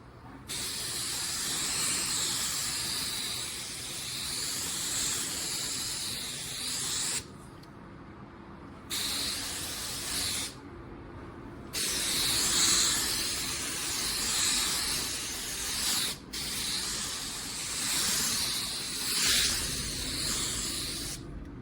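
A spray gun hisses loudly as it lays a full coat of clear onto a car bumper, in several long bursts separated by brief pauses, close and with no talking.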